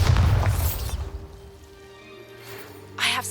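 A Bombarda spell blast in Hogwarts Legacy, a loud booming explosion at the start that fades into a low rumble, followed by another short burst near the end.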